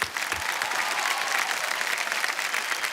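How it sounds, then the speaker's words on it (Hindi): Studio audience applause on a televised quiz show: continuous, dense clapping from a large crowd, steady and loud throughout with no pauses. "तो देवियों सज्जनों, एक बार फिर तालियां बज जाएं"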